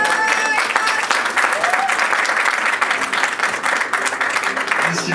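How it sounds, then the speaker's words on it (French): An audience at a festival award ceremony applauds a prize winner for best direction, a dense, loud, continuous wash of clapping that holds steady throughout. "on l'applaudit s'il vous plaît"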